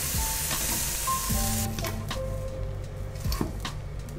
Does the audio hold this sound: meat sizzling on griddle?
yes